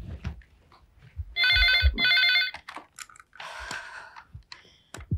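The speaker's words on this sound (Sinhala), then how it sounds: "අන්න ෆෝන් එක රින් වෙනවා" A telephone ringing in a Sri Lankan TV drama scene, two bursts of electronic trilling close and loud, with clicks and short knocks between them and no talking.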